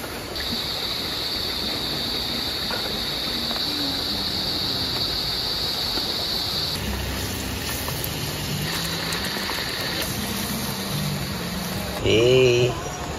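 River flowing beside a campsite at H&B Nature Camp in Laguna, a steady broadband rush of water close by, continuous throughout with a brief louder sound near the end.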